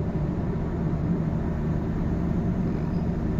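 Steady engine rumble from a car accelerating during a driving lesson on a Vietnamese road, a continuous low drone with road noise throughout and no talk.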